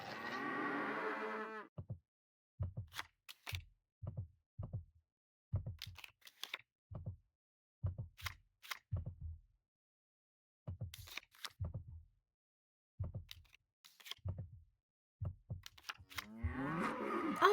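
Cows in a guessing game in which all the cows or all three monsters can die moo in a series of short, evenly spaced lows with brief pauses. Another voice-like sound is heard at the start and end.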